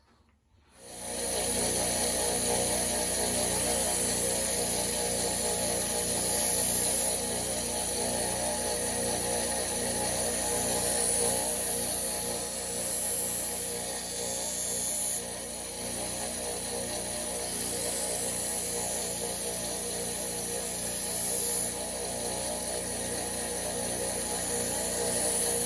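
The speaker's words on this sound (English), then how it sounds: "I'm going to go ahead and fire this thing up, and I'm going to show you the first step, which is this cutting wheel" A paper wheel knife sharpener's cutting wheel running: a loud, steady motor whine with a rapid rhythmic flutter starts abruptly and drones on without a break, with no talking.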